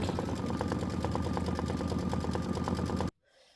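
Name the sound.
Aveneer embroidery machine stitching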